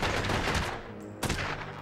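Rapid gunfire from a Godfather video game on PlayStation 2, a dense burst of shots followed by a short lull and another loud volley, close and sustained with no talking.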